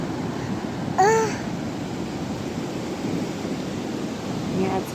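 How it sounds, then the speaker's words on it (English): Strong wind blows steadily outdoors, a constant broadband roar buffeting the microphone throughout, with a brief high child's vocalization near the start. "Yeah, it's very windy."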